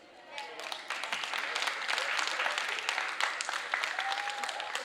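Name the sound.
audience applause at a poetry recital contest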